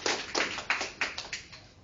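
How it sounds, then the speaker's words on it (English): A few distinct hand claps at an English debate event, sparse and uneven, about seven sharp claps close by over under two seconds rather than full crowd applause. "Give applause."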